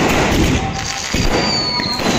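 Firecrackers bursting during a Gurpurab celebration in Srinagar, a few loud, sharp thumping blasts close by over a dense, noisy background.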